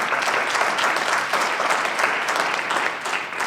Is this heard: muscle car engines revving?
no